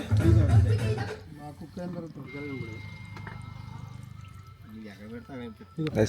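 Water is poured into a bamboo stalk packed with rice, masala and chicken for bamboo biryani, a steady soft gurgling pour running for a few seconds under nearby conversation.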